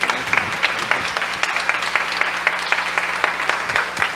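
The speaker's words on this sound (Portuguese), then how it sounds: "Aplauda o Senhor" A church congregation applauds during a family worship service, a sustained wash of many hands clapping at a steady level with a few sharper claps standing out.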